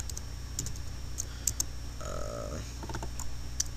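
Someone types a command into a computer's command prompt, with quick irregular keyboard clicks in short bursts and a brief tonal hum partway through.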